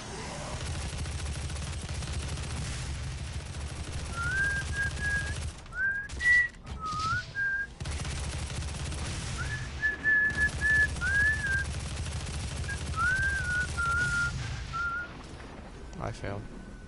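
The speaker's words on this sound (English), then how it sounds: "I whistled Jingle Bells" A person whistles Jingle Bells in short melodic phrases over loud, continuous gunfire and game noise from Doom, with brief gaps in the din.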